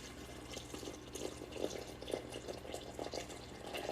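Water is poured steadily into a container on a kitchen scale to measure 300 grams for a recipe, giving a continuous close trickle with small splashy pulses.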